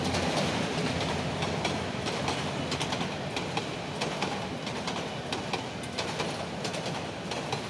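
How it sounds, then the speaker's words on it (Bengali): A train rushes past at high speed near a riverside fish market, a dense continuous roar with rhythmic wheel clatter and clicks on the rails, loud and steady throughout with no voices. "এই যে দেখতে পাচ্ছেন ট্রেন খুব জোরের গতিতে যাচ্ছে, আপনারা দেখতে পাচ্ছেন অনেক স্পিডে ট্রেনটা যাচ্ছেন"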